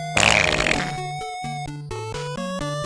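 Retro PC game intro music stumbling into title screen music, bright synth tones and chords cutting in and out in choppy blocks after a loud noisy burst at the start, with no voices.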